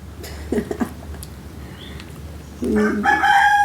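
A rooster crows twice: a short call early on, then a louder, longer crow that rises and holds toward the end, close by over a quiet background.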